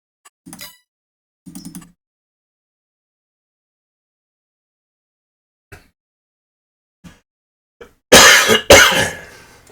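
A few short coughs and throat clears spaced apart by silence, ending with a louder, harsher burst of coughing close to the listener.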